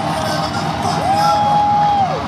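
A concert crowd at a rock show cheers and shouts as the drummer tosses drumsticks into the audience; a dense, steady roar of voices fills the space, with a sustained whistle-like tone rising above it.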